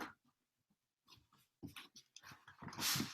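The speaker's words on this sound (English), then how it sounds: "And the doggy wants to come in." A dog whimpers and whines softly outside a room, wanting to come in, with faint breathing between the quiet cries; a few low sounds rise toward the end.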